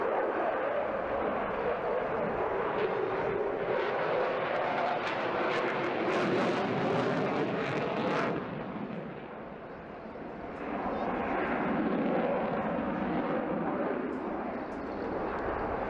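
A Eurofighter Typhoon jet flying an agile airshow display, with a loud, sustained roaring engine rush that swells, dips briefly and builds again, heard from a distance across the field.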